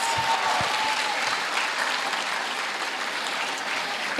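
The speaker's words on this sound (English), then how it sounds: "Give them a round of applause for me." Continuous applause from the crowd at a primary school graduation ceremony, a steady wash of many hands clapping at moderate volume, with a brief tone near the start.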